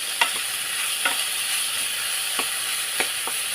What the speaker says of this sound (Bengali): দিয়ে খুব ভালো করে আমি আলুটা ভেজে করে নেবো